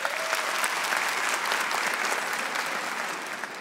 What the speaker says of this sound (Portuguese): Bate palma